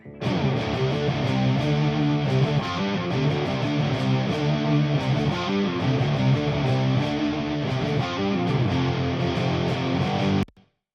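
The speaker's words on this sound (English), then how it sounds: "And in the chorus, the heavy guitars sound like this." Heavy distorted electric guitars, a group of four layered parts, chug through a rock chorus as a dense, wall-like mix, loud and steady for about ten seconds before cutting off abruptly.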